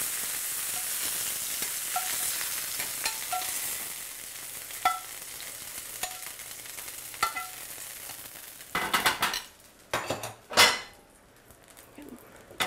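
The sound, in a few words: cooked venison and pan juices being put into a bowl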